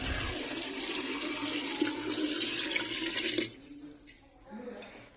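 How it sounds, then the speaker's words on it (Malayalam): Water is poured into a large jar of salted mango pickle, a steady rushing splash for about three and a half seconds, then it stops, leaving quieter trickles and drips. "ഇനി നമുക്ക് ആവശ്യത്തിനുള്ള വെള്ളം ചേർത്ത് കൊടുക്കാം."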